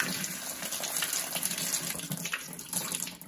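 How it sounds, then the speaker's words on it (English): Raw Hog Island sheep wool being rinsed under a running tap, with a steady close splash and gush of flowing water, fluctuating slightly as the fleece is moved and pressed beneath the stream. "I'm just going to rinse it under the flowing water just a little bit"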